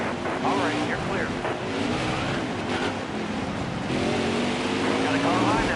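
NASCAR Craftsman Truck Series race trucks circle Martinsville Speedway in a steady, loud engine roar with rising and falling pitch as trucks pass, while a spotter's voice talks over the radio throughout.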